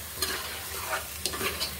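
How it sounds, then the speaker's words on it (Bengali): Pointed gourd pieces are stirred with spices and turmeric in a hot frying pan, giving quiet scraping strokes at an irregular rhythm over a soft, steady sizzle, with no voices. "মশলার সাথে পটল ভাজাটা কিন্তু খুব ভালোভাবে নেড়ে চেড়েও ভালো মতো কষিয়ে নিতে হবে"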